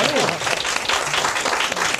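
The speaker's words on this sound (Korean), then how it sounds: "제 생각에 맞으면 박수 한번" Audience applause at a talk-show style lecture on reading, a dense steady wash of clapping filling the whole moment, with a faint voice briefly over the start.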